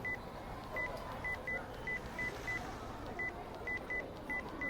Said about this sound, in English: She typed a quick message to her brother on her phone.